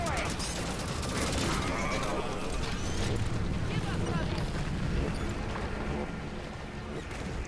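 Dense, continuous gunfire and mechanical weapon clatter from the video game Halo 5: Guardians, loud and sustained throughout with heavy layered combat noise.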